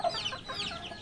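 A Japanese Bantam chicken clucks close by, a quick series of short, chirpy calls lasting about a second.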